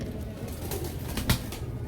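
Pigeons, including silver pairs sitting on eggs, coo softly in low murmuring tones against a steady background hum, with a brief rustle partway through.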